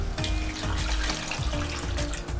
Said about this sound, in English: Add some salt, milk, and water.